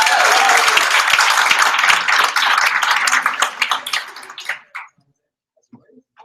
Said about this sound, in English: Massive round of applause for Manuel.